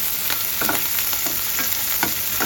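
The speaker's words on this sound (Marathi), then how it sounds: "आलं टाकते आणि कोथिंबीर टाकते. हे पण चांगले भाजून घेते." Ginger, garlic and coriander fry in hot oil in a pan, giving a steady sizzle broken by several scraping stirs of a spoon, close up with no talking.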